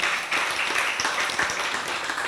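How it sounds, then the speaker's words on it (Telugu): Audience at a temple discourse clapping loudly, dense sustained applause from many people throughout, fairly close and even. "గట్టిగా చప్పట్లు కొట్టాలండి"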